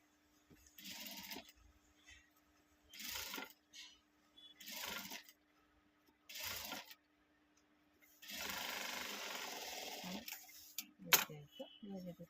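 Sewing machine stitching a pouch from waste cloth scraps, running in several short bursts of a few seconds each with a longer run near the end, separated by quiet pauses.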